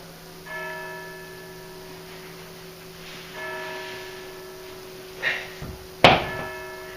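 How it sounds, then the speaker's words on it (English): Church bells ring at midnight with long sustained tones, two slow strikes a few seconds apart, followed by a couple of sharper metallic clanks. "These are the midnight bells right now."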